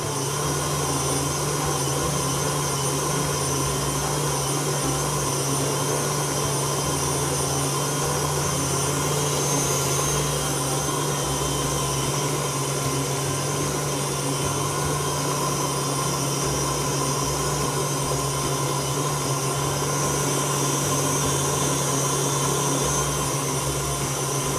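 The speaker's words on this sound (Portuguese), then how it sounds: "agora eu levo de volta para a batedeira, com o creme de leite que eu coloquei" An electric stand mixer beats fluffy cake batter with cream, giving a steady, loud motor whir and churning hum that runs unbroken throughout without any talk.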